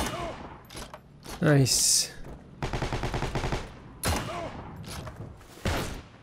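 Gunfire in Heroes and Generals as US infantry: several bursts of rapid automatic shots, loud and close, with separate single cracks between them and a player's brief voice mixed in.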